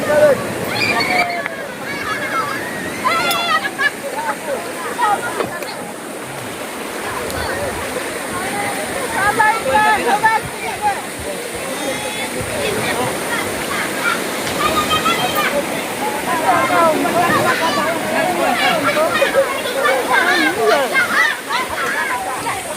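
Waves wash and slosh on an Indonesian beach during a family lunch outing, a continuous surf under lively overlapping voices and chatter throughout.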